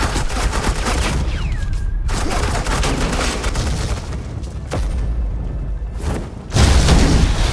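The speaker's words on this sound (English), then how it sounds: "Suppressing fire." Suppressing gunfire in the video game Batman: The Enemy Within, a dense rattling fusillade of shots with heavy low booms, continuous and loud throughout with a brief lull and a sharp heavier burst near the end.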